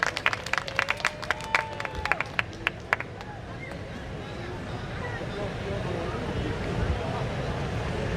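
An audience at a Durga puja programme claps in a brief burst of applause over the first few seconds, then the clapping fades into a low crowd murmur and ambient hall noise.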